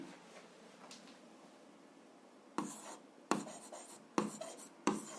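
Pen on paper during an algebra exercise: faint scratching at first, then four distinct bursts of brisk handwriting strokes, each a second or so long, close and quiet with no voices.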